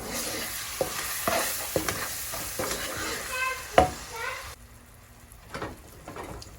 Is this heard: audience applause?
no